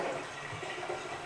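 Water draining steadily out of a reef aquarium tank during teardown, a continuous soft gushing and trickling flow, fairly quiet and even, with no talking.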